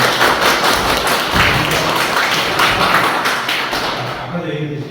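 Audience applause for a speaker at an AI lecture event: dense, loud clapping from a crowd that carries steadily through, then thins and fades toward the end as a voice begins.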